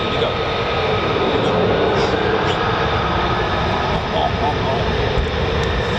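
A USAF F-15E or F-35A fighter jet lines up on the runway at RAF Lakenheath, its engines a steady broad roar heard from a distance, continuous and unchanging throughout.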